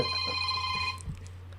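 A phone rings with a steady electronic ringtone for about a second, then stops, leaving a low background hum with faint room noise.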